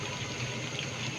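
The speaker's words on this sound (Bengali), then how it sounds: "একটু পানি দিয়ে দিই, তাই না?" Hot water is poured into a cooking pot of mutton with chana dal, producing a brief, steady splashing gush close by.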